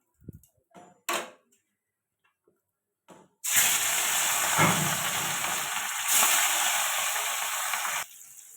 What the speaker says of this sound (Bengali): তেলটা গরম হয়ে গেছে, এবার মাছ দিয়ে দেবো।